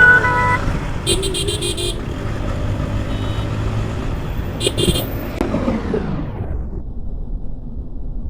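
A motorcycle, a Yamaha FZ version 3, riding on a road: a steady engine drone with traffic noise, short bursts of horn honking near the start and middle, and the engine sound fading away toward the end.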